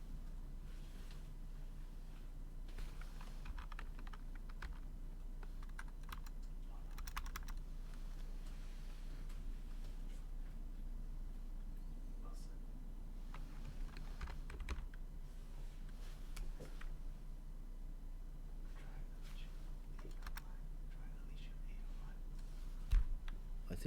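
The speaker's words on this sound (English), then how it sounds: "we'll start typing your names in" Steady typing on a computer keyboard as user names are entered, continuous soft clicking close to the microphone over a low hum, with faint speech in places.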